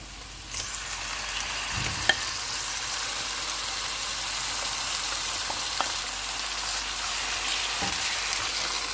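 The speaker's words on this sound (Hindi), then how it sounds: "प्याज फ्राई हो गए हैं, इसमें मैरिनेटेड चिकन डालेंगे।" Marinated chicken fries over a medium flame with golden-fried onions in oil, giving a continuous close sizzle with occasional soft knocks of a spoon stirring the pan.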